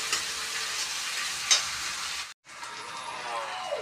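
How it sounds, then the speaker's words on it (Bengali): Ginger-garlic paste frying in hot oil in a pan, giving a steady close hiss and crackle that stops for a moment and then resumes as an even sizzle. "একটু আদা রসুনের পেস্ট দেবো আমি, গন্ধ যাওয়া অবধি ভেজে নেব।"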